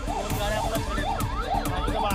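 Several emergency vehicle sirens wail together at a large blaze, their rising and falling tones repeating loudly and steadily over a dense background roar.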